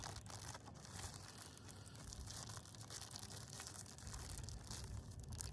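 Tape is peeled off a potted berry plant being moved into a grow bag, making a quiet, continuous crinkling and tearing rustle that lasts throughout.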